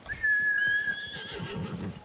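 A horse whinnies in the video game Ghost of Tsushima, one long high neigh trailing off over soft rumbling hoof and ambient noise.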